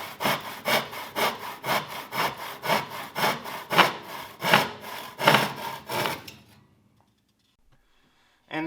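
A hand saw cuts a wooden board for a simple box in rhythmic, rasping back-and-forth strokes, about a dozen close, loud pulses, before stopping abruptly into near silence.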